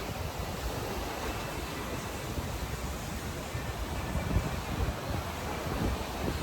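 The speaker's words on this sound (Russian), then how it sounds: "Смотрите, какие волны." Ocean waves wash onto a beach in the Seychelles as a steady, faint roar of surf that carries on for several seconds without clear breaks, with no speech.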